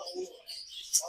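Small aviary birds chirp in quick, high twittering bursts, soft and fairly close, with a louder call near the end over a faint low murmur.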